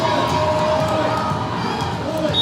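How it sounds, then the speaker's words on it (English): Fans shout and scream in the stands at a 14U AAU volleyball championship, a dense, loud crowd roar that holds steady throughout, with excited voices blending into one wall of noise. "You can hear, those aren't boo birds. Those are Brooke birds that they're screaming out in the stands."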